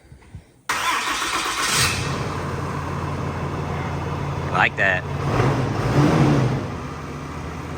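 A large race truck engine cranks and catches, then rumbles and revs loudly up close, with a brief voice speaking over it.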